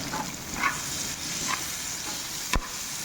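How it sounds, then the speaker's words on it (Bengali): Tomatoes fry in a pan with a soft, steady sizzle, a few quiet stirring scrapes and one brief clack, with no talk. "টমেটোটা একটু ভাজা হবে"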